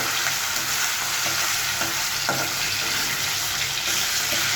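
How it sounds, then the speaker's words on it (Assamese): Fish coated in turmeric and salt fries in hot oil in a wok, giving a steady close sizzle and crackle throughout with no talk over it. "এতিয়া মই কেৰাহীত তেল দি লৈছোঁ তেল দি পিনে মই এতিয়া ধুনীয়াকৈ ফ্ৰাই কৰিম"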